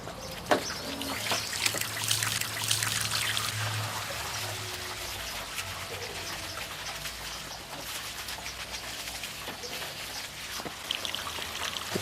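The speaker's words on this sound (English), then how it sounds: "We have distributed the pine needles on the roof and now rinse them with water." Water rinses over pine needles spread across a roof, a steady trickling and dribbling wash with scattered drip ticks, continuous and fairly close throughout.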